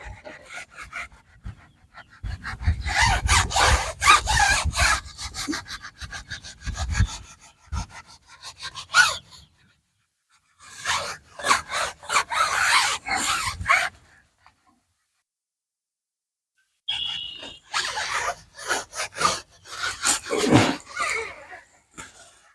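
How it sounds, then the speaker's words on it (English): Sponge rubbing Cerakote Rapid Ceramic Tire Sealant into the grooves of a tire, giving bursts of loud, close scrubbing and wiping strokes separated by short pauses. "So you just keep rubbing it in like this till you get it on there nice and even."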